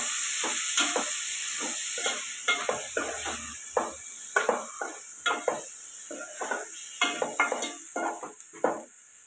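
Tomatoes with salt frying in a pan for egg curry, a steady hiss of sizzling under repeated close scraping strokes of a spoon stirring, rhythmic and continuous without talk.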